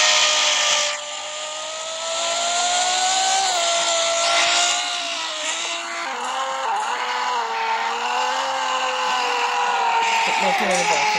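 A high-revving Lamborghini Huracán Performante engine drones steadily in the Roblox game Car Dealership Tycoon, its pitch shifting up and down as the throttle changes while warming up the tires, loud and continuous.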